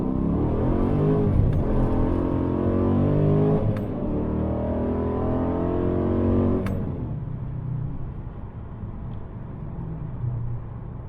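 A Dodge Challenger fitted with polyurethane differential bushings accelerates on a road test, its engine heard close from inside with a rising rev that holds, a couple of gear-shift ticks, then a steady cruising drone.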